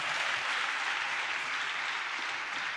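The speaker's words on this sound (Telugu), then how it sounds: "చప్పట్లు కొడుతూ స్తోత్రాలు చెప్దాం." A church congregation claps in praise, a dense, steady wash of many hands applauding together at close range, with no voices rising above it.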